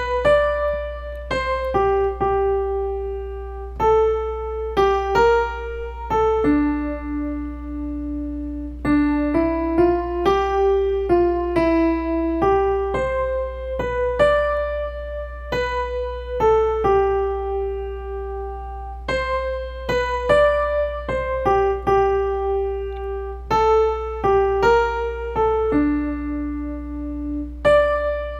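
Solo piano picks out the melody of a song as single notes in a slow, steady line, clear and close with no talking.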